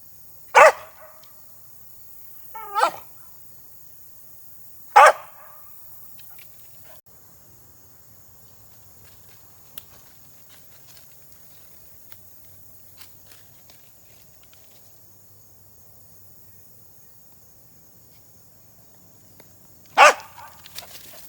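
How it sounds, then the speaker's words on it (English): A single dog barking outdoors near a railway trestle and tunnel: three sharp, loud barks close together, then a long quiet stretch with faint rustles before one more bark. "Silly dog."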